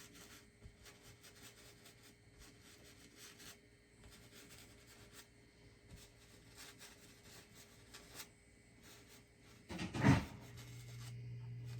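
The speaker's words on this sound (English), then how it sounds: "that noise is just the ice falling from our ice maker" A brief clatter of ice cubes dropping from a refrigerator ice maker into its bin near the end, over a steady low household hum and faint rustling.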